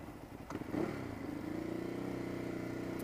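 A Ducati Hypermotard SP motorcycle engine gives a quick blip of the throttle and then settles into a steady, throbbing mid-pitched drone, heard close and alone.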